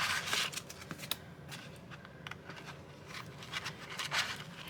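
A stack of cards is riffled and handled close up, giving soft papery flicks and shuffling rustles in uneven bursts.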